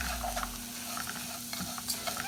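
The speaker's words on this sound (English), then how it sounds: "Now the onions are nice and soft, we're going to add the Freekeh. Here we go. And stir it around a little bit before adding the broth." Freekeh is stirred into softened onions sizzling in a pot, giving a steady close scraping and gentle frying crackle with no talking.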